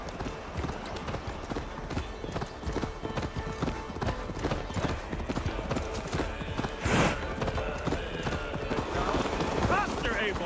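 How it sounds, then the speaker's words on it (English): Rapid hoofbeats of a galloping horse in the video game Assassin's Creed Valhalla pound continuously up close, with voices talking over the running and a short snort near the middle. "Ride like Sleipnir's hooves! Your horse is slow"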